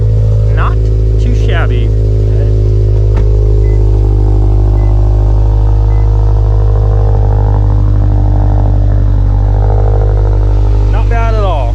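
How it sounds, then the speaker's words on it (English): Cold start of a stock-engined Honda Type R running on E85 fuel, heard close up as a loud steady idle with a deep rumble throughout, with brief talk over it. "E85 cold start for the boys."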